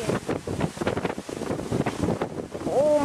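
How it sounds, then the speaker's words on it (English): Strong wind gusts rumble and buffet the microphone in choppy, uneven bursts, with a faint whistling tone near the end and no clear talk. "It is windy."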